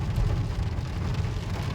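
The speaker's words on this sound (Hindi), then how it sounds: "बारिश तो हो ही रही है, थोड़ी तेज़ हो जाए" Steady rain falls in the mountains near Kanatal and Dhanaulti, a dense, even hiss and patter that holds constant throughout with a low rumbling undertone and no voices.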